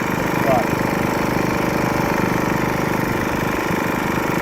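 Champion C2500IS inverter generator idling steadily close to its exhaust outlet, a constant mid-pitched engine hum with faint vibration throughout.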